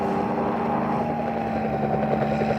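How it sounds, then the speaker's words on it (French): A red helicopter flies low almost directly overhead near a road, giving a steady, loud rotor and engine drone that holds evenly throughout with a slight rhythmic chop. "Oh, là, presque au-dessus de nous. L'hélicoptère rouge."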